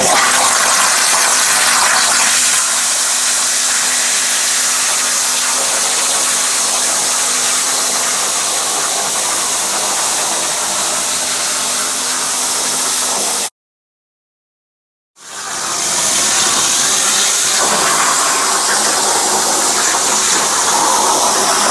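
Piranha plasma table cutting a steel bucket repair piece: a loud, steady broadband hiss and roar running continuously, broken by a sudden full silence of about a second and a half before the harsh cutting noise resumes.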